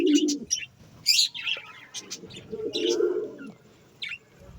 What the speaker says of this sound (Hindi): अंदर सारे ही चिड़ियाँ अंदर ने इस टाइम बड़ी हैं, क्योंकि सारियां ब्रीड कर रही ने